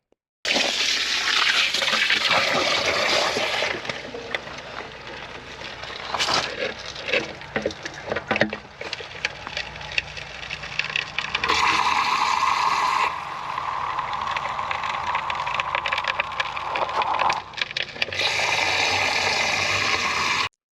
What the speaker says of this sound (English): But now I've plunged it and lifted that centre a bit, it does seem to be running away quite nicely.